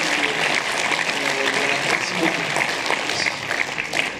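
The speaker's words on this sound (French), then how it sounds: "Un gros round d'applaudissements pour Erwan Chafio." A closing-ceremony audience at a film festival claps steadily, a dense, even round of applause from a crowd that holds a constant level throughout.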